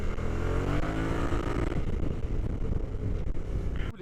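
Kymco AK 550 maxi-scooter engine under way, a steady loud low drone with a deep torquey rumble mixed with strong wind buffeting on the microphone, continuous throughout with no talk.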